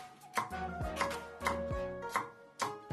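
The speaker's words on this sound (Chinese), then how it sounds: "切成大小均匀的滚刀块" A kitchen knife cuts green and red chili peppers into angled chunks on a board, making sharp, close chops at a steady, unhurried pace of roughly two per second.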